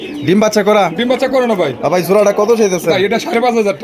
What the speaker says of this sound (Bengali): এখানে রয়েছে কালা কুচকুচা একজোড়া শৌখিন কবুতর